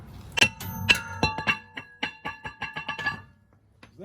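Metal hammer blows clang against a rusted brake rotor stuck on an Alfa Romeo Giulietta rear hub, a dozen close, ringing strikes in an uneven, quickening rhythm with resonant metallic tails.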